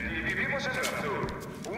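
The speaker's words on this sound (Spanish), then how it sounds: "Mira, ahí está el caballo." A horse neighs in Bioshock Infinite, a whinny with some clip-clop of hooves, heard under game sounds and talking voices.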